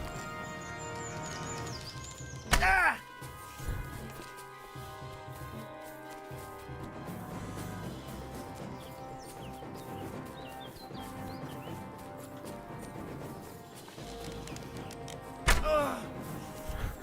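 Bow shots and arrow impacts in Kingdom Come: Deliverance II come through as two sharp, loud thunks several seconds apart, set against ongoing game ambience with birdsong and music, with faint voices in the background.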